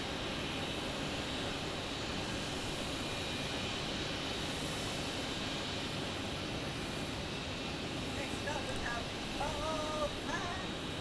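A WestJet airliner from Calgary rumbles steadily at Phoenix Sky Harbor airport, a continuous broadband jet-engine roar at moderate distance, with faint chirps near the end.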